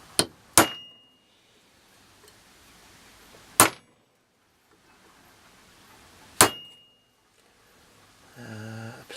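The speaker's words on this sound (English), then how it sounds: "make a few centre punch marks where I'm going to drill holes" A hammer striking a centre punch on a steel knife blank to mark drilling points: sharp metallic clangs, a quick double hit then two single blows spaced about three seconds apart, with a short ringing tone near the end.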